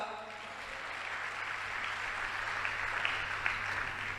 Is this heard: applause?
yes